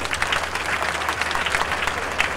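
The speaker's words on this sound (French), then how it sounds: "Applaudissez s'il vous plaît" Steady applause from wedding guests at a civil marriage ceremony, dense overlapping claps filling the room at an even level for the whole stretch, with no voices over it.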